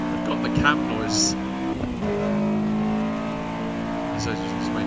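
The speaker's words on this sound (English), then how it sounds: "These engines make a lot of cam noise." Race car engine cam noise in the sim racing game Assetto Corsa EVO, a steady droning engine tone with a pitch drop midway, accompanied by a speaking voice.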